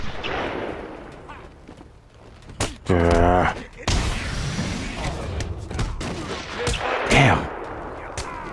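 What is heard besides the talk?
gunfire in the video game Batman: Arkham Asylum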